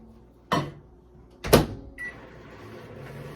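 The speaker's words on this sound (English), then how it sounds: "So I will microwave my baked beans." A microwave oven is used to heat baked beans: a door clunks shut, buttons thump, a short beep sounds, then a low steady hum of the running oven continues, close and alone.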